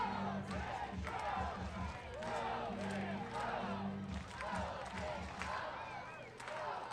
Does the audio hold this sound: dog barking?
no